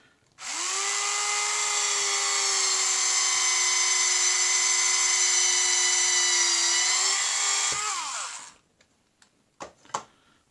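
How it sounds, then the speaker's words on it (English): A small handheld hobby drill, used in place of a pin vise on a miniature's base, whines at a steady high pitch for about eight seconds, close up, then spins down, followed by a few light clicks. "Get my little handy drill that I use instead of a pin vise."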